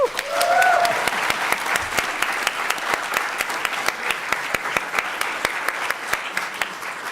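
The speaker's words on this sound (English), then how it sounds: "I want you to give that same kind of applause to my colleague, the distinguished Congressman John Sarbanes" Audience applause at a congressional forum on predatory financial practices, loud and dense throughout, with crisp individual claps standing out over a steady crowd wash and a brief rising sound at the start.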